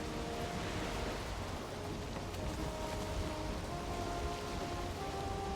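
Rain falls steadily in the Valheim video game, a dense, even hiss of drops over open water at sea, continuous and fairly quiet, with no talk.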